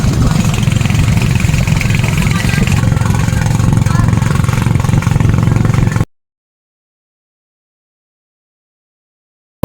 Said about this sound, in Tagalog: Yung floating cottage ay hinihila ng isang bangka.